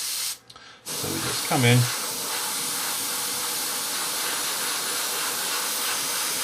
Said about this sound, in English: we're going to spray that in as well.